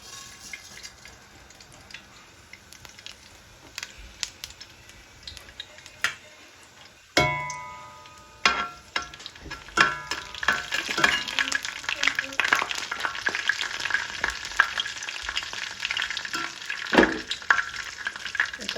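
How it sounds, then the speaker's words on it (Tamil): Mustard, fennel and fenugreek seeds crackling and sizzling in hot sesame oil in a pan, quiet at first, then a burst of popping that grows into dense, busy spattering. "சட்டி சூடானதும் கடுகு வந்து பெருஞ்சீரகம் வந்து வெந்தயம் சேர்க்க போகிறோம்."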